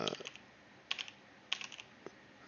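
A few separate keystrokes on a computer keyboard, crisp and close, tapped sparsely in short clicks with quiet pauses between them and no voices.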